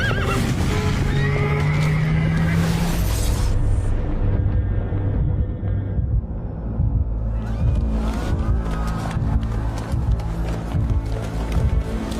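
A horse whinnies loudly up close amid clattering hooves and traffic noise during a road accident, followed by a steady rumble of movement and scattered thuds.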